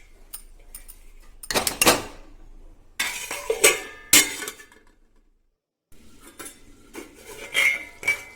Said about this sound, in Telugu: మధ్య మధ్యలో కలుపుకుంటూ ఉండాలి,